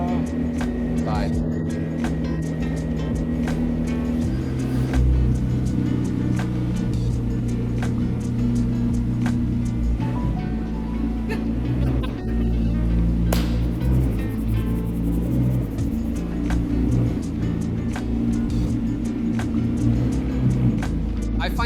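A McLaren pulls out and drives off, its engine droning steadily with shifting low tones throughout, close and continuous, with no pauses.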